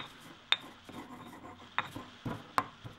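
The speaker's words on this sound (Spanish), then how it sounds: "Trituramos muy bien los ajos con la sal." Garlic cloves are crushed with salt into a paste. Quiet gritty grinding and rubbing continue under a few sharp, close knocks, with no speech.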